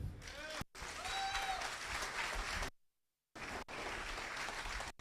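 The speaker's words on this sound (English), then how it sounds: "Keep the applause going" Audience applause at a construction college open day and STEAM labs launch, a dense steady wash of many hands clapping that cuts out abruptly twice, with faint voices mixed in.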